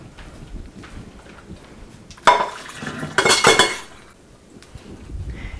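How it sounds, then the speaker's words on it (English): A pan being emptied out in a home kitchen while cooking beef crowns and mashed turnips, giving a sudden metallic clatter and scrape, then a longer burst of clanking and rattling that fades, with no one talking. "Then I'm going to go ahead and empty out this pan."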